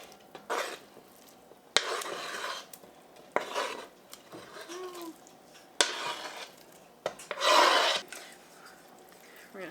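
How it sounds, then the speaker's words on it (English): A spoon stirs chicken soup with parsley in a pot, making several separate scraping, rasping strokes at a moderate, close level, with quiet pauses between them. "I'm just gonna give that a stir real quick."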